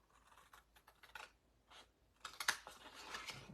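Scissors cutting through paper for a Christmas papercraft project, close and quiet: irregular bursts of snipping and crisp slicing with short pauses between cuts, no one talking.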